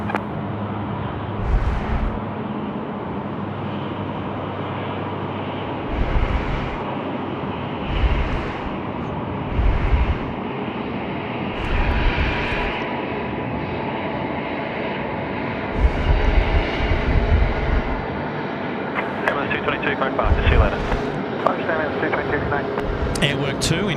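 A Boeing 737-400 freighter departs Sydney Airport at night, its jet engines a steady broad roar throughout, with someone talking and air traffic control radio chatter over the noise.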